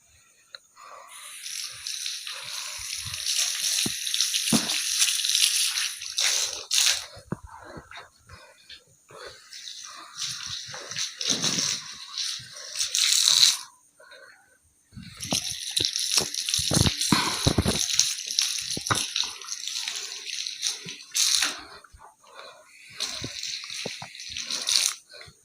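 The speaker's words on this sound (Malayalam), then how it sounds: "ഇനി നമുക്ക് ചെയ്യാനുള്ളത് വലത് കാല് 3 പ്രാവശ്യം ഉരച്ച് കഴുകുക." Water is poured and splashes while the right foot is scrubbed during the Islamic wudu ablution, coming in long bursts of trickling and gushing with short quiet gaps and occasional drips and knocks.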